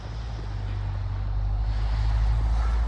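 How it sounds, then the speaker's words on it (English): Steady low rumble of road traffic passing around a small commercial shop building in snowy weather, a continuous distant wash of engines and tyres with no talk. "Can you hear the traffic?"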